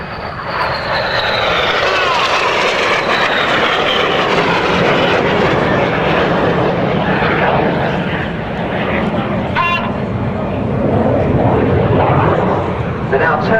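RAF Red Arrows jets make a low Synchro Pass over the runway at an airshow. Their loud, continuous engine roar fills the whole stretch, swelling and easing slightly as they sweep past.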